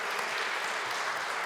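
Steady clapping from a group of people at an art exhibition event in Venice, a dense even patter of applause throughout.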